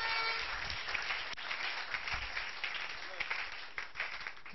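A church congregation at a Pentecost service applauds the Lord, a steady wash of clapping heard from a distance, thin and slightly muffled, with a voice faintly audible underneath.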